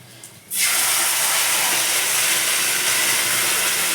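Hilsa fish pieces poured into hot tempered oil set off a sudden, loud burst of hissing sizzle that holds steady and intense after a quiet start.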